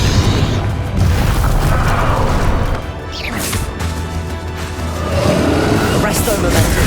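Confringo fire blast spell explosions in Hogwarts Legacy: loud booming crashes and whooshing bursts over sustained battle noise, easing briefly in the middle before swelling again, with voices in the mix.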